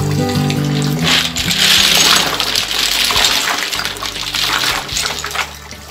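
Soaked mountain snails get washed in water: loud splashing and sloshing with shells clattering against each other and the container, close up, in uneven bursts that fade toward the end.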